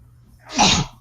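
One sharp sneeze bursts out close up after a moment of near silence, a quick rising breath followed by a loud, bright expulsion that fades fast.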